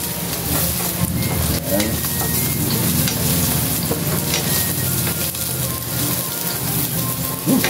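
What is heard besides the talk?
garlic sautéing in a pan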